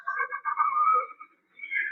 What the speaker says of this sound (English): That's the sound of the little chicks.